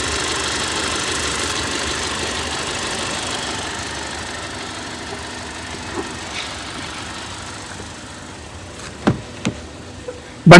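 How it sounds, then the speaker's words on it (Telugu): A 2020 Hyundai Creta 1.5 SX(O) engine idles with a steady, even low hum, followed by a few sharp clicks and knocks near the end. "ఇంజన్లో ఎలాంటి నాయిస్ అనేది లేదు, ఇంజన్ పర్ఫెక్ట్ ఉంది."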